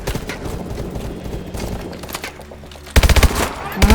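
Bursts of rapid automatic gunfire in a Call of Duty: Advanced Warfare firefight, loud sharp volleys breaking in after a stretch of game music and ambience, with a second burst near the end.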